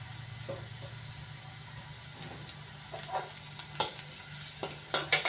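Chopped pumpkin gently frying in a pan while being stirred, a soft continuous low sizzle with a steady hum beneath and a few light scraping knocks of the spoon near the end.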